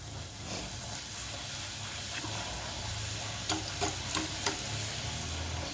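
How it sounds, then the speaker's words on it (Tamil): Kara puri, a spiced puri with cumin and chilli, fries in hot oil with a steady close sizzle and bubbling, punctuated by a few brief clinks and stirs near the end. "காரப்பூரி பொரிச்சு எடுத்துடலாம்."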